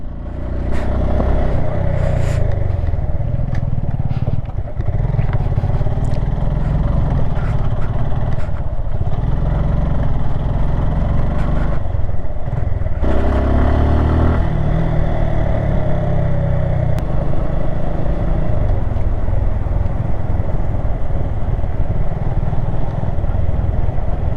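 A sports motorcycle riding off-road on a mountain trail in Himachal, its engine droning steadily and loudly throughout, with rumbling dips and surges as it works over rough ground. No one talks.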